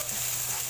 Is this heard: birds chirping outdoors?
no